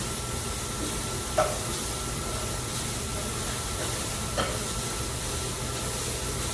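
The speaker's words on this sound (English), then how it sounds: "put the onions, stir it, lower the flame" Onions frying in oil in a pan over a medium-to-low flame give a steady, even sizzling hiss throughout, with two faint utensil taps as they are stirred.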